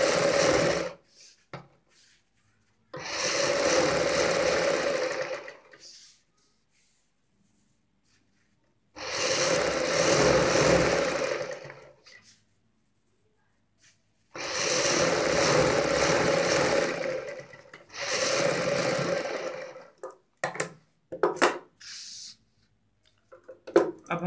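Foam is stitched onto salwar bottom fabric with buckram on a sewing machine, in four loud, close bursts of rapid stitching of a few seconds each, separated by quiet pauses, with light handling noises near the end.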